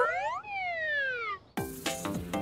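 A cartoonish ambulance siren wails in long sliding tones, rising and falling, then gives way to a burst of bright, playful sound effects.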